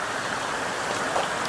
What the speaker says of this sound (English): water's rushing through the gap and it's scoured a pool out